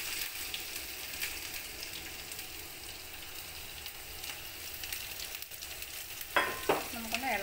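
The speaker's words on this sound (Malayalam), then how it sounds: "നമുക്കൊന്ന് ഇളക്കി കൊടുക്കാം" Ginger, garlic, green chili and shallots fry in a pan for a buttermilk curry, with a soft, steady sizzle and light stirring scrapes. A louder rattling clatter of the spoon comes near the end, and no one speaks.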